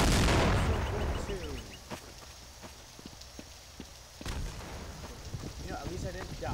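A grenade explodes in Counter-Strike: Source, a sharp loud blast that decays over about a second, followed by scattered game gunfire and clatter, with a second burst of noise later in the round.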